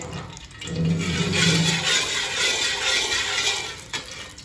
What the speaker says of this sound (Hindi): ये जो आवाज़ आ रही है घी में से